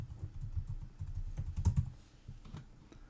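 Keys clatter in quick, uneven bursts on a computer keyboard as a username and password are entered, close and fairly soft, with a brief pause before a few final presses.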